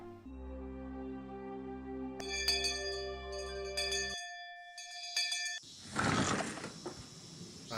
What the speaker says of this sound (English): Finally, we heard the principal's bell ringing.